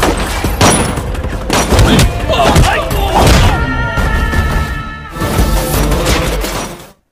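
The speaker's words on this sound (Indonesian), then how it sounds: "Baku tembak pun berlangsung sengit hingga beberapa anak buah Samsung tewas" A movie shootout fills the scene with loud, dense, continuous gunfire, rapid overlapping shots mixed with crashes and thuds, nearly unbroken until it cuts off sharply at the end.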